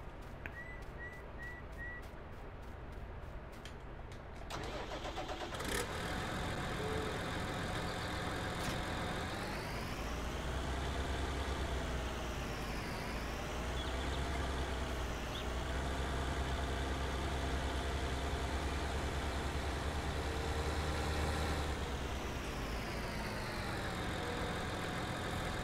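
A large tractor in Farming Simulator 19 starting with a few short beeps, then settling into a steady, droning diesel idle whose pitch dips and rises now and then, heard alone.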